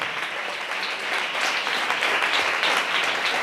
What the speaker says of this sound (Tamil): நல்ல தலைக்கு மேல கூட கைத்தட்டி தேவனை மகிமைப்படுத்துங்களேன்.